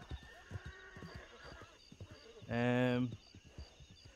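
A horse in a video game lets out a loud, drawn-out whinny in the middle, framed by steady clip-clopping hooves before and after.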